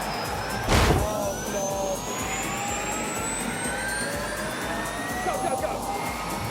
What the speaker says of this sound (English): It's like driving a jet engine.